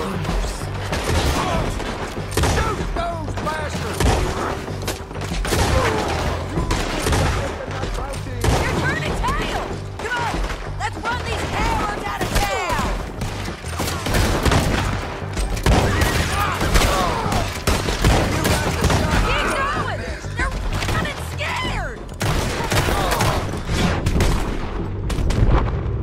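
A Red Dead Redemption 2 shootout rages with dense, continuous shotgun and rifle fire, heavy booming blasts and crackling reports layered throughout, while voices shout over the gunfire.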